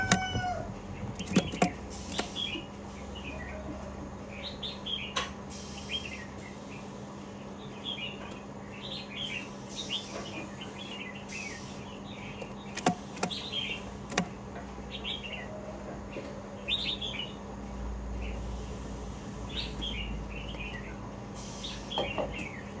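Caged hwamei songbirds chirp and whistle in repeated bright phrases over a low steady hum, with a few sharp clicks and knocks scattered between the calls.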